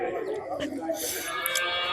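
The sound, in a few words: cow mooing at a cattle market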